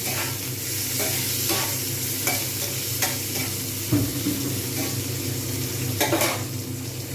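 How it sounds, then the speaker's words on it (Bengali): Shrimp fry in a pan with onions and curry leaves, a steady close sizzle broken by repeated scrapes and stirs of a spatula against the pan. "এবারে এতেই দিয়ে দেবো আমি চিংড়ি"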